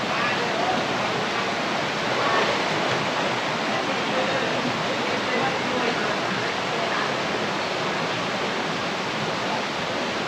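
Water rushes steadily out of the far end of a tunnel in Tham Chang cave in Vang Vieng, Laos, a continuous broad hiss and roar with no pauses and no voices.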